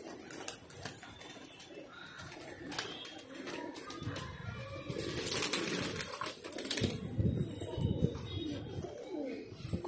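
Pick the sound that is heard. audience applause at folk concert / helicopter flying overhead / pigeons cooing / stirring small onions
pigeons cooing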